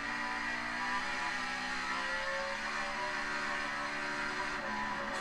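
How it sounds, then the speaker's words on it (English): A race car accelerates with its wheels spinning, a steady, loud engine whine and tire roar that holds constant and near throughout, with no voices over it. "Get some wheel spin, though. You can hear that. A lot of wheel spin."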